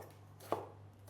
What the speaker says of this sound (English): Chopping it up into regular, exact sizes preferably